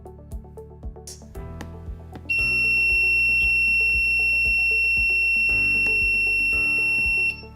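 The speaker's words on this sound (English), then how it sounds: "The buzzer beeped for 5 seconds." Onboard buzzer of a WiNoT Trainer board sounds a steady, loud continuous tone for about five seconds, preceded by quieter clicks and small noises.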